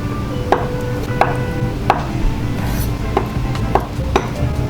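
Knife chopping firm tofu into bite-sized cubes on a cutting board, a series of about eight crisp separate thuds at an uneven steady pace, close and moderately loud with no one speaking.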